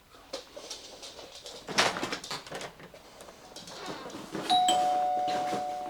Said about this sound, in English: So we managed to get a doorbell in then and no bark.